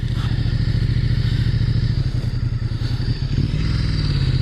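Ducati XDiavel motorcycle pulling away on a road in North Wales, a loud steady engine drone with a gear change and rising revs near the end, close and continuous.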